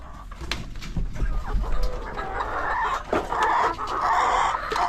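Chickens on a backyard farm cluck and call continuously, close by and fairly loud, with soft rustling and shuffling mixed in.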